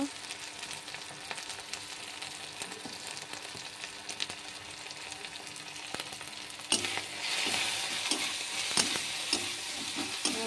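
Spices with chopped tomato, chili powder and turmeric frying in oil, stirred well in a pan; a soft steady sizzle with scraping strokes that grows louder and brighter partway through, no voices.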